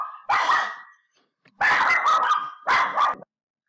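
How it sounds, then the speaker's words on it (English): A pet dog barks indoors in three loud, close bursts, one long and two shorter, with a brief pause between them and near silence around them; no talk. "That was my doggy barking."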